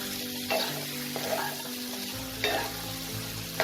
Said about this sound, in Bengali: মশলাটাকে আমি আরও 1 মিনিটের মতো ভেজে নেব